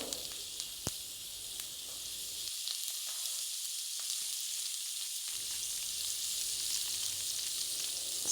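Boiled banana flower and grated coconut sauté in a pan with a steady, close hiss of sizzling oil that runs throughout, with a few light stirring ticks.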